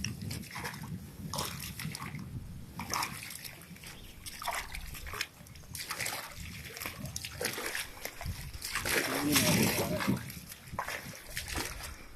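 Splashing of someone wading through water in a village near Bagamoyo, with irregular sloshing steps and a louder burst of splashes near the end, mixed with people talking and outdoor background noise.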